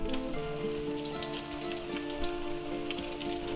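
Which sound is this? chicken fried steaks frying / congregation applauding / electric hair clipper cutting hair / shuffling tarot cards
chicken fried steaks frying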